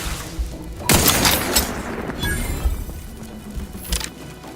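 Loud gunfire and booming impacts from combat in the video game The Outer Worlds 2, a sharp blast near the start followed by a dense, crashing barrage that tails off.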